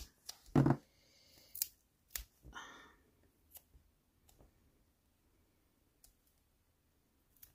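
Scissors snip paper or card at a scrapbooking craft table, a few sharp close cuts early on followed by softer faint clicks and handling noises in a quiet room.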